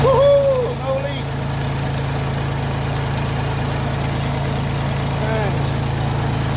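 A 1972 Ford 2000 tractor idles close by after a hydraulic line repair. The engine gives a steady, low, continuous rumble throughout, and a voice exclaims briefly near the start over the running engine.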